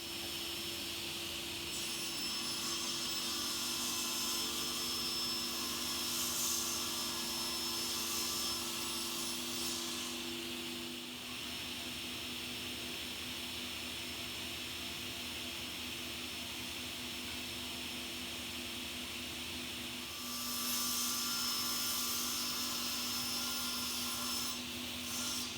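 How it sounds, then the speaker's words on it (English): A sliding saw runs through stiff black recycled textured plastic board, a steady broadband whine and rasp lasting about twenty seconds with a brief dip partway, close and loud with no talk. "I'm just going to cut it on the sliding saw"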